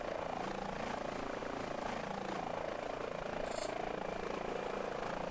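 Airbus H145 helicopter in Microsoft Flight Simulator 2024 gives a steady, dense rotor and turbine drone, loud and unbroken from start to finish, with no voices.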